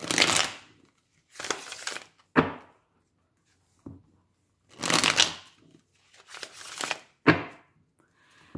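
Tarot cards shuffled for a reading, in several quick riffling bursts with short pauses between them, close and fairly loud, with no talking.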